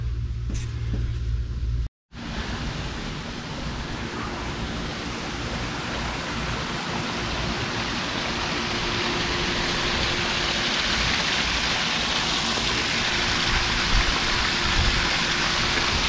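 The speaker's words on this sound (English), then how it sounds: "You've got a nice view of the waterfall down below." Steady, dense rushing of a waterfall with 5.5, 2 and 1 foot drops spilling into a 24-inch-deep ecosystem pond, heard from a room above; continuous broadband roar after a brief cut near the start, with no talk.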